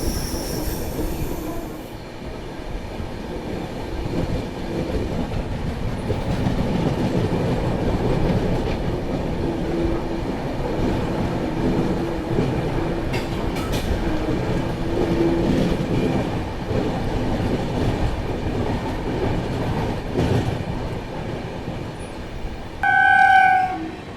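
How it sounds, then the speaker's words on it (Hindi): Humsafar Express passenger train running through a forested ghat section, with a steady rumble and clatter of wheels and carriages throughout and squealing wheels near the end. "घने जंगलों के बीच घाट सेक्शन से गुजरती हुई अपनी हमसफर एक्सप्रेस।"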